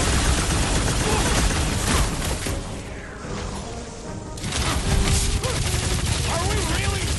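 Dense, continuous gunfire bursts and explosive crashes fill a battle scene in the Guardians of the Galaxy video game, loud throughout with a brief dip midway before the volley resumes.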